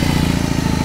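A 2020 BMW R 18 motorcycle with its 1800 cc boxer engine runs at idle close by, a loud, even, throbbing pulse of low beats with no voices over it.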